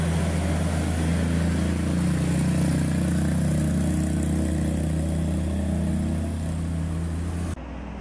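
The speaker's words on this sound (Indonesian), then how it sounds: "Wah, ini ada truk yang nanjak nggak kuat juga." Heavy truck engine straining uphill on a mountain road, a loud, sustained low labouring drone that holds steady before cutting down near the end.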